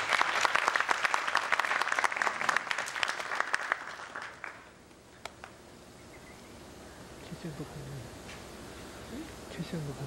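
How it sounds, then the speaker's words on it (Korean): Audience applause at a Chinese community church gathering, a dense burst of clapping for about four seconds that dies away into a quiet room. "자, 큰 박수, 힘을 주십시오"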